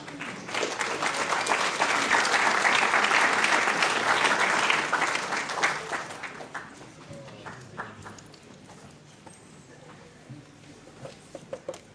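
Strong applause from an audience at a presentation on the press law greets PhD Gabriela Sotomayor Terceros, director of IFICOM, loud and sustained for several seconds before tapering into scattered claps.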